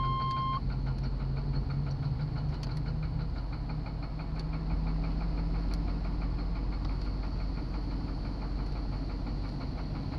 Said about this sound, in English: listen to this engine. It's not good.